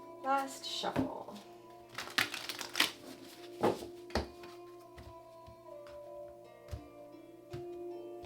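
Oracle cards from a Pluto deck are shuffled by hand in a quiet room: a few sharp riffling bursts and soft slaps, closely miked, spread irregularly over several seconds with no talking.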